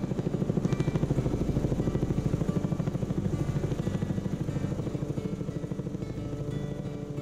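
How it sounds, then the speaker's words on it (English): A helicopter flies over the Monongahela National Forest on a terrestrial liming project, its rotor thumping in a fast, steady pulse at close range, loud and unbroken throughout, with no voices. "So this week we have a helicopter contractor here"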